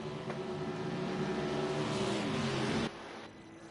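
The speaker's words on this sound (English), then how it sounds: "That car just sped down pit road as you saw on the camera" A stock car in the Project CARS 2 racing game speeds down pit road at Texas, its engine droning loud and steady before cutting off abruptly near the end.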